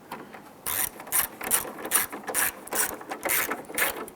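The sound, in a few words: ratchet tightening fasteners securing a Ford Explorer plastic grille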